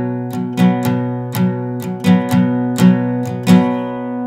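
Acoustic guitar strummed in a repeating rhythm for a song, a pattern of two then three then three strokes, with sharp bright strums ringing out close and alone, no voice.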